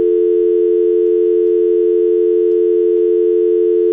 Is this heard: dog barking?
no